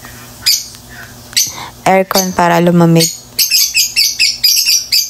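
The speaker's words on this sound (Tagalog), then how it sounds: "Ingay ng ibon namin, guys." Pet birds squawk and chirp loudly nearby indoors, with a run of harsh calls and then quick repeated chirps, while a person speaks briefly at the start.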